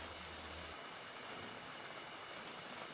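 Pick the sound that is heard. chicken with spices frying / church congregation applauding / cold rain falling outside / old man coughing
cold rain falling outside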